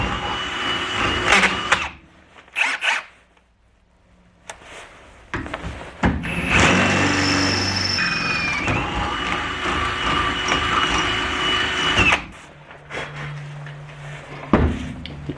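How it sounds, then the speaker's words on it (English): A power drill whirs loudly in long bursts with short gaps, its pitch shifting as it bores a hole in a metal plate, with scraping and clunking between runs. "I'm just gonna drill the hole."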